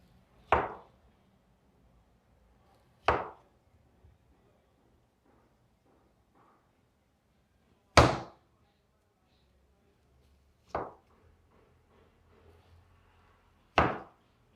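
Paneer being cut into thick pieces with a knife, five separate sharp thuds on a board spaced a few seconds apart, crisp and close with quiet in between.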